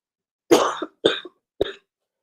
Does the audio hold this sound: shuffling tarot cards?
no